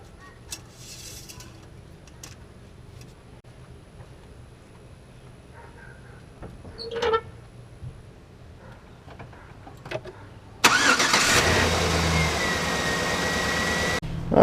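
A 2007-2011 GMC Sierra pickup engine turns over and catches after about ten seconds of quiet shop noise, then settles into a loud, steady idle that runs to the end.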